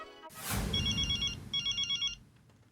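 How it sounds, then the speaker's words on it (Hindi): An electronic telephone ring trills in two bursts, with a brief pause between them, over low background rumble. "अभी मेहता साहब को फोन करता हूँ।"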